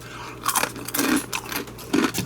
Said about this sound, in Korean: 자, 한번 그냥 먹어봅시다.